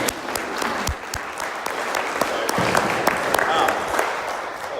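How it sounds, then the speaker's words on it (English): An audience at an education town hall claps steadily throughout, a dense patter of many hands filling the room with a few sharper nearby claps. "You guys are clapping."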